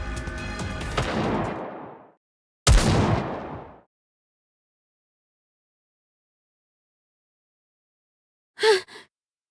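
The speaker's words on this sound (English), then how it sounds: "Those gunshots. I've heard them somewhere before." Gunfire in the video game NIKKE: a long ragged burst of shots, then a sharp second volley that rings out and dies away, followed by silence and a brief muffled gasp.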